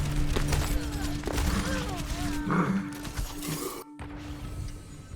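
Baptiste's burst-fire weapon in a video game rattles out rapid shots amid busy mechanical game effects, with a voice talking over the action.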